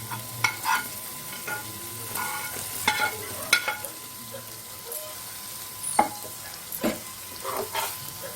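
Prawns fry in a pan for prawn biryani under a steady sizzle, with close, irregular stirring clacks and scrapes of a spoon against the pan.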